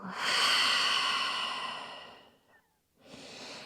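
A deep exhale through the mouth during a yoga breathing exercise: a long, close, breathy sigh that fades out, followed a moment later by the start of another breath.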